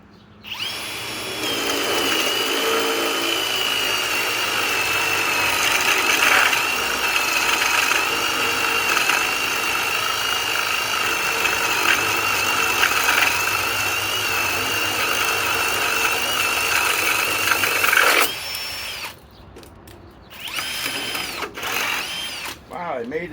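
Cordless hammer drill running a 2-inch bit at speed 2, a loud steady whirring and grinding for about eighteen seconds that then stops, followed by brief talk and clatter.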